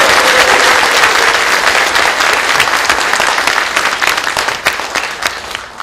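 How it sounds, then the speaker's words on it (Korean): Loud, dense clapping from a crowd at a political party rally, sustained and steady before easing slightly toward the end. "다 같이 한번 뜨겁게 박수 한번 치십시오."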